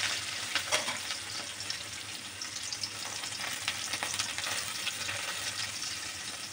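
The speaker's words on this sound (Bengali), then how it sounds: "এবার এগুলোকে ভালো করে ভেজে নিতে হবে" Garlic, cumin and raw sugar fry together in hot oil as the base for a sea fish curry, a dense bright sizzle that runs close and steady with faint stirring, no voices.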